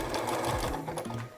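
Sewing machine stitching the body of a reversible baby bib with a tie, a steady close whirring run that drops off at the end.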